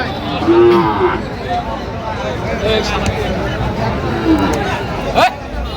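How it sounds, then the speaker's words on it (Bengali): A Sahiwal bull calf moos several times at a busy cattle market, with a loud low call near the start and later shorter calls, while buyers and sellers chatter in the background. "শাহিওয়ালের ষাঁড় বাচ্চা।"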